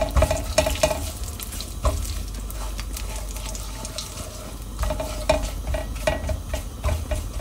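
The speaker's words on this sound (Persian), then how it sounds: "خوب تفتش میدیم." Steady sizzling of dill in hot oil with scraping stirs from a utensil against the pan, continuous and close.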